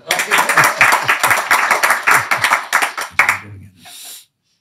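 An audience breaks into brisk clapping, a dense run of close hand claps that thins out after about three seconds, followed by a brief murmur before falling silent.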